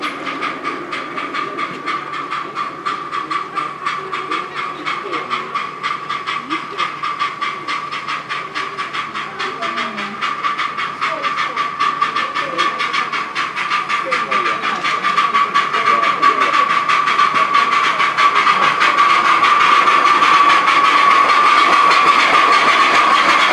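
Light railway locomotive Lion tows locomotive Lily at a South Downs Light Railways gala, a steady hiss with rapid clicking rhythm that grows gradually louder and nearer over the stretch.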